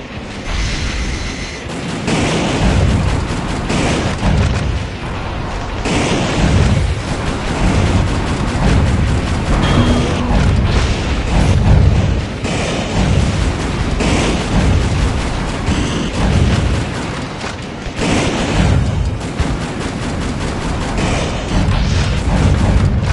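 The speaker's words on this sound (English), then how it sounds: "Shotguns with a wide firing area or machine guns with a high rapid fire rate are effective here" Shotgun and machine gun fire in the Metal Wolf Chaos video game, a loud dense barrage of booms, blasts and rapid shots mixed with mechanical clatter throughout, with no talk.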